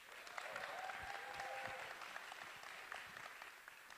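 An audience at a festival event applauds its artists and speakers, a steady wash of clapping that holds through the moment with some faint voices mixed in.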